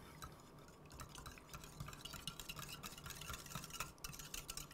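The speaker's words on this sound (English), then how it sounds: "I'm going to whisk that together just to get it going." Sour cream and ranch dressing whisked together in a bowl make soft, steady wet scraping and clicking, faint and continuous throughout with no voices.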